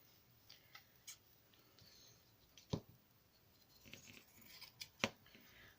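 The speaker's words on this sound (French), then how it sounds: "Bon, je vais prendre les ciseaux." A few faint, isolated snips of scissors cutting fabric, quiet sharp clicks spaced apart in a hushed room.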